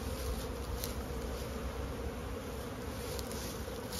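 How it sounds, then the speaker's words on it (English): A dense, continuous buzz of many honeybees swarms around an opened hive during a spring inspection. The sound holds at a steady, close, even level throughout with no voices. "Wow, that's a lot of bees."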